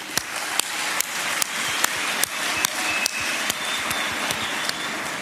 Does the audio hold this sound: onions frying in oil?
no